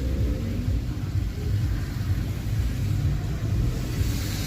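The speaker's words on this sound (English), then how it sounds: "There is traffic all the way home." Road traffic rumbles steadily, a continuous low drone of passing vehicles heard from inside a car in slow traffic, with no talk.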